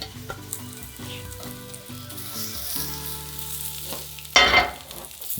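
Vegetables sear in a hot cast iron pan with a close, continuous crackling sizzle and light stirring, then a sudden louder hiss burst flares up near the end.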